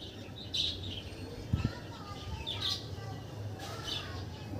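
Andhra pigeons, older birds of the anar-dana-eyed type, give soft, fairly quiet calls and chirps in bursts, along with a few brief thumps and low background noise.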